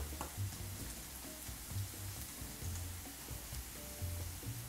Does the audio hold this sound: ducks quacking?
no